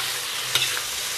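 Crayfish tails with scallion, ginger and garlic hit hot chili oil in a wok, a steady loud sizzle with one brief clatter of the spatula midway, close up and without voices.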